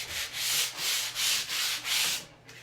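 Sanding a painted wooden sign by hand in five steady back-and-forth strokes, each a soft rasping hiss, close and alone with a low hum beneath.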